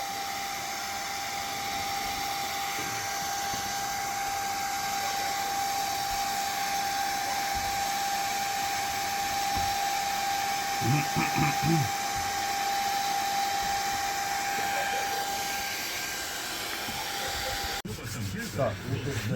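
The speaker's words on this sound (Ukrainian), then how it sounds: "Фен рішає, да?" A hair dryer blows steadily throughout, warming a part during repair work on an MTZ-82 tractor, with a constant whirring hiss and brief knocks and shuffling partway through.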